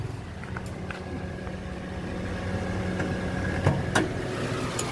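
A 2013 Daihatsu Terios TX with manual transmission idles smoothly with its hood open, giving a steady low engine hum throughout. A few light clicks and clanks sound close by near the end.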